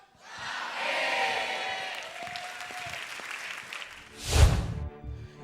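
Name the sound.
studio audience applause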